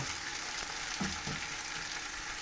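Pasta hard-fried in a pan for pasta alla gricia, giving a continuous close sizzle with a couple of soft stirring scrapes midway.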